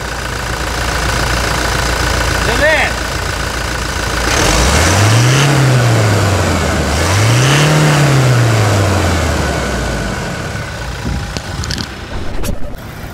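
Toyota Hilux engine after a timing chain replacement, idling steadily then revving up twice in long smooth swells before settling back, loud and close with no talk.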